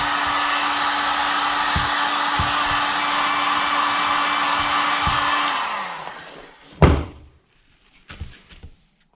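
A heat gun blows loud and steady for several seconds while warming the metal fork of a Honda CR 125 motorcycle, then winds down, followed by a sharp knock and a few faint clunks.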